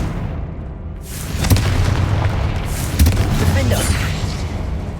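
Confringo fire-blast spell explosions in the video game Hogwarts Legacy inside the Feldcroft Catacomb, two heavy booming bursts about a second and a half apart amid ongoing combat rumble, with spell shouts nearby.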